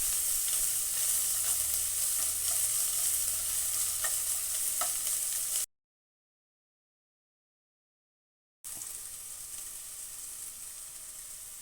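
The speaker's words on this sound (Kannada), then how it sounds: "ಒಂದು ಈರುಳ್ಳಿ ಹಾಕ್ತಾಯಿದ್ದೀನಿ. ಇದು ಚೆನ್ನಾಗಿ ಜಾಸ್ತಿ ಏನು ಉರಿಯೋದೇನು ಬೇಕಾಗಿಲ್ಲ." Onion frying in oil for a momo filling makes a soft, steady sizzle with occasional stirring clicks, cut off by a few seconds of total silence before the sizzle resumes.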